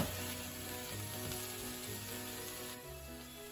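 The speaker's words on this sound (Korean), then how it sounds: "기름을 두르고 버섯을 먼저 볶아줍니다." Mushrooms and tomatoes sizzle in an oiled pan, a steady, fairly quiet frying hiss that runs continuously, with no voices.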